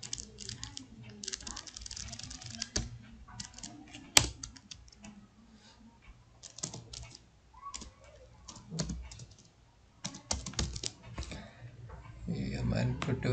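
Typing on a computer keyboard in MS Word: irregular clusters of quick, light key clicks with short pauses, fairly faint, under someone talking.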